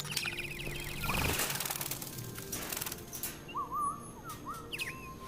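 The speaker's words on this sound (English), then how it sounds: "Oh, even the birds are fake?" Synthetic birds in Detroit: Become Human chirp and tweet in short melodic calls over a soft ambient outdoor bed, moderately close and fairly quiet.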